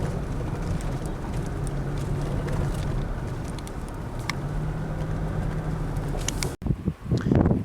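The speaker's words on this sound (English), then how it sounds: "Lots of wind." Strong wind buffets the microphone on a mountain saddle along a remote New Zealand 4WD route, a steady loud roar with low rumble throughout, then sharper gusts and a sudden break near the end.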